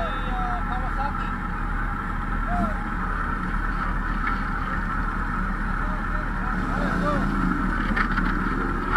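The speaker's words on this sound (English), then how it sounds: "Fantastic engine by Kawasaki." Kawasaki H2 supercharged motorcycle engine on a city street, a steady, loud drone with heavy wind rush over the microphone throughout, and people talking over it.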